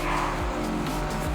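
A racing car engine in a video game drones steadily during an overtake, with faint tire-like swishes over a continuous electronic hum.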